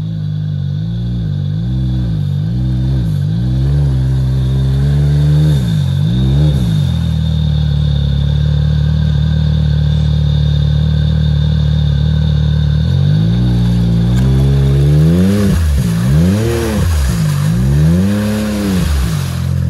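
Can-Am Maverick X3 engine revving while backing up slowly off-road, loud close bursts of rising and falling revs, a steadier idle-like stretch in the middle, then more repeated throttle blips.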